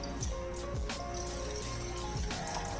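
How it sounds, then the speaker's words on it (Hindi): Water poured into a wok already holding cardamom pods and cinnamon, a steady quiet trickle and splash under a faint background hum, with small drips and plops scattered through. "इसके साथ ही 2 गिलास के जितना इसमें मैं पानी डाल दूंगी"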